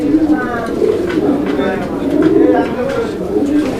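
A male fancy pigeon indoors gives repeated throaty coos in a rolling rhythm, close and clear, with a person talking over the calls.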